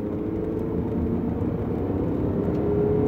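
A 2009 Toyota Camry LE with a 4-cylinder engine and over 100k miles accelerates hard on the road, giving a steady, loud engine drone and tire rumble from inside the cabin, with no talk.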